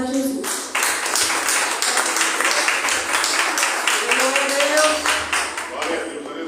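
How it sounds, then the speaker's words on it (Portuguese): A church congregation applauds together, a dense, loud and steady wall of clapping that lasts throughout, with a brief spoken voice at the start. "Receba o servo do Senhor com palmas para Jesus."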